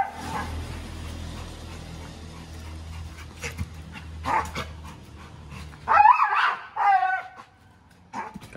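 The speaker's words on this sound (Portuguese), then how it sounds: "Cachorro de vocês late assim quando ele vai querer morder alguma coisa" A pit bull pants and snuffles, then lets out a few sharp, loud barks and yips close by near the end.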